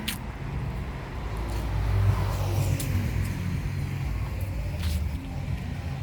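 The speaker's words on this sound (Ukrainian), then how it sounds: "Дуже швидкий рух машин. І багато машин." Fast, heavy car traffic on a street in the town of Haverton in the USA, a constant rumbling roar of engines with passing vehicles swelling and fading at moderate distance.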